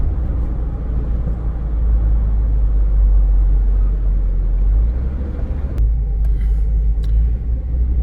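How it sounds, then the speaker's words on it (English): Road traffic on the approach to Fort Myers Beach after Hurricane Ian, a loud, steady low rumble of vehicles close by with a brief shift in tone near the end. "Lines of traffic ahead of us."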